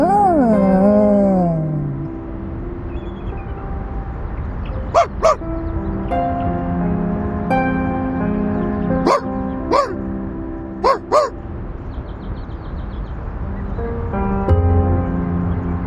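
A cartoon dog barks in a video game, several short sharp yips scattered over a steady musical background, clear and close.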